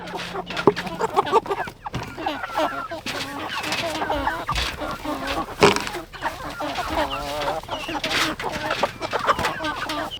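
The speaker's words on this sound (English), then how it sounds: "So we've been growing these meat chickens out for 8 weeks." A flock of Cornish cross meat chickens, about eight weeks old, clucks and chatters continuously nearby, with overlapping soft calls and occasional louder squawks throughout.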